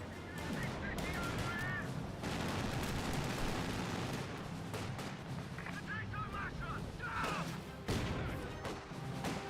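Battle gunfire in the video game Company of Heroes 2, with bursts of rifle and machine-gun fire and explosions layered over a continuous din, heard faintly beneath a commentator's voice.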